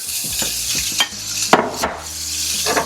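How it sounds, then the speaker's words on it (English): Bacon sizzles in a Ninja Foodi pot for short ribs, a steady bright frying hiss with several sharp crackles and pops and a few clunks of stirring or dropping pieces, close and fairly loud. "let's throw the bacon in there"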